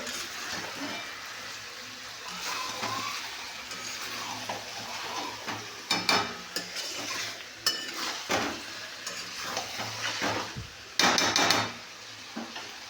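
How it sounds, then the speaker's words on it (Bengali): Mutton cooking down with a full mix of spices in a pan, sizzling steadily throughout with clattering scrapes and bursts of stirring, louder knocks of a utensil against the pan near the middle and end. "তো মাটনের সাথে একেবারে সমস্ত রকম মশলাপাতি সব কিছু দিয়ে একেবারে কষাচ্ছি"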